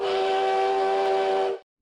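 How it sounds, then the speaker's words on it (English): A single sustained, loud steam-train whistle from the Doomtrain boss in a video game, holding one steady harmonic tone for about a second and a half before cutting off sharply into silence. "Occasionally, it's going to let a train whistle out."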